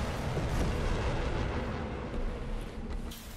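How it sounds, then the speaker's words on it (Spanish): A deep, rumbling explosion in Sniper Elite V2 with a long rolling boom that fills the space, slowly fading as loud noise continues. "Uy, ¿qué fue esa explosión?"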